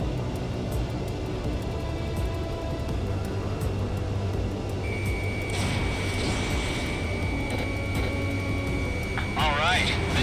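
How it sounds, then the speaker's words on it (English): Enemy transport aircraft taxiing in a combat flight video game, a steady engine drone and rumble, with a rising whine and a tone partway through and radio-style voices speaking over it. "Enemy transports are taxiing."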